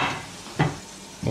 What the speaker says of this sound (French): Ça y est, elles sont en train de revenir là, les boulettes là.